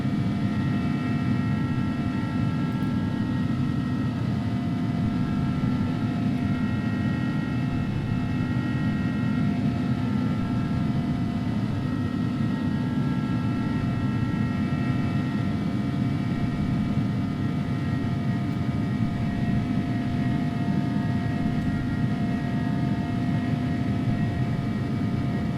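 Steady, unbroken engine drone of an Airbus A300-600F cargo airliner climbing after departure in X-Plane 12, with a constant hum and whine and no talking throughout.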